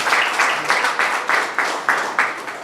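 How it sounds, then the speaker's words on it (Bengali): A small audience at a village teacher-training event claps together in several loud, evenly spaced bursts of applause, with no talk over it. "যারা যারা এখানে এসেছেন নিজেদের জন্য একটা জোরে হাততালি দিয়ে দিন"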